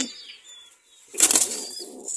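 A short, loud burst of a pigeon's wing flapping close by, a flurry of rapid beats that fades after about half a second, following near silence.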